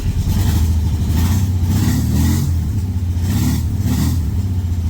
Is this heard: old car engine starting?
yes